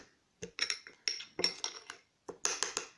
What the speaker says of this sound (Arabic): نخلط جيدا إلى غاية ما تتجانس المكونات